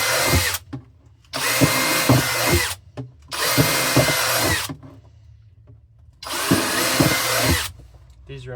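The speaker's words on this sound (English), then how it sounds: "Oh crap, I forgot to drill holes in the bottom. It's alright, give it a drill" A power drill whirs in three long, loud bursts with short quiet pauses between, drilling holes in the bottom of a porch planter at close range.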